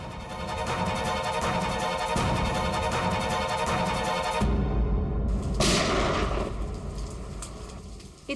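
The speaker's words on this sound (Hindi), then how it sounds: "ये कहीं गोली चली है।" Gunfire rings out during a rainy scene in a CID TV crime drama, sharp reports over a steady wash of rain, with dramatic background music and no talking.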